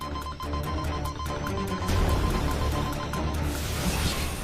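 A telephone rings in a quick repeating trill, loud and close, with the pulses blurring into a busier, noisier wash toward the end and no voices present.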